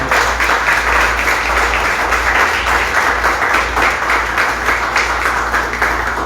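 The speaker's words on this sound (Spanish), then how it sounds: "Dar un aplauso bien fuerte al Señor" A church congregation applauds loudly and continuously, a dense wash of many hands clapping together with steady intensity throughout, close and enveloping.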